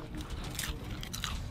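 Someone bites into a thick bacon and pimento sandwich, giving a close, crisp crunch followed by a couple of chewing crackles over faint room noise.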